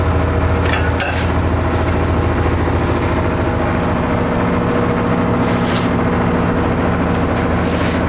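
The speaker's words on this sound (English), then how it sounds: "Sorry about the compressor noise, guys." An air compressor runs loud and steady, a constant mechanical drone with rattling pulses that never lets up.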